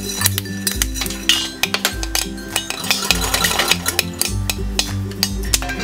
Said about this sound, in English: take it off every 15 seconds or so in order to stir the kernels